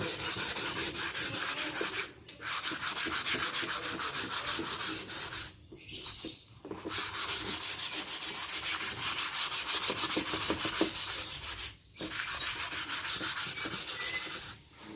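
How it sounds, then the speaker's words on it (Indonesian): Steady back-and-forth rasping of 240-grit sandpaper on wood, close and continuous, broken by a few brief pauses between stretches of rubbing. "Oke, kita lakukan amplas dulu pakai yang 240. Kita haluskan."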